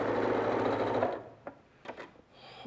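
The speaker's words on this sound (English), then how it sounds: "we're just going to sew right off the end, and our first seam is all completely done" A sewing machine stitches a quilt seam with a fast, steady mechanical whir for about a second before stopping. Softer clicks and handling sounds follow.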